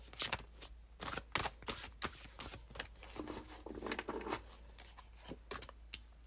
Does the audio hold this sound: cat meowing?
no